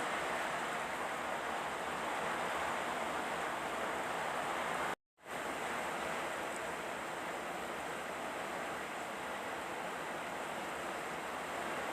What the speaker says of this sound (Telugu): ఇందులోకి కొంచెం ఆయిల్ని వేసి ఇందులోకి కొన్ని ఆవాలు కొంచెం జీలకర్ర